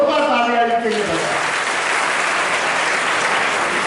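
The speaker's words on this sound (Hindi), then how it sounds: "एक बार जोरदार तालियां इसके लिए बजाएं।" Loud, sustained applause from a school event audience as 1200 girls receive study kits in Nagda, breaking out after a brief spoken line and filling the rest of the clip as a dense, steady wash of clapping.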